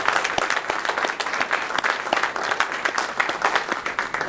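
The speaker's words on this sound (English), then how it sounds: "I think he deserves a round of applause" Audience applause at a university engineering entrepreneurial day opening, a dense, steady wash of many hands clapping close and loud for several seconds with no talk over it.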